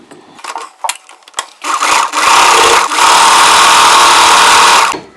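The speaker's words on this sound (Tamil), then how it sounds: "நமக்கு ஜிக்ஸாக் மட்டும் அடிக்க போகிறோம்." Sewing machine running a zigzag stitch on a frilled chudidar bottom: a few short clicks and starts, then a loud, steady whirring stitching run lasting several seconds, close up.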